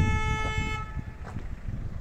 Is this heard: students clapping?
no